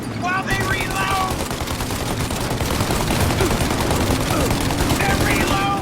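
Sustained gunfire in a shootout from Mafia: Definitive Edition, dense rapid shots close and loud throughout, with shouted voices over the top.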